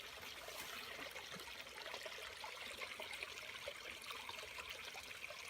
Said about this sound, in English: Can you hear the water? Listen.